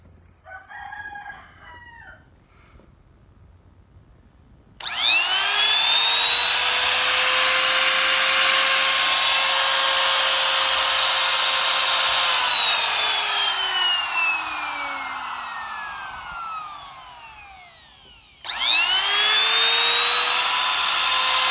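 A budget palm router fitted with a bit spins up to a loud, steady high-pitched whine that holds for several seconds, slowly winds down as it is switched off, then starts again, with brief faint talk before the first start.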